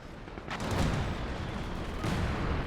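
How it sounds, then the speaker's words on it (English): Mortar pit artillery fire in a late-game strategy match replay, dense rumbling booms rolling continuously with a sharper burst near the start and another surge later, loud and close, no voices. "Got another mortar pit going on."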